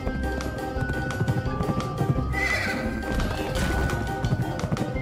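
In the video game Pumpkin Jack, a horse whinnies loudly over clattering hooves and crashing game sounds, with dense music-like effects running throughout.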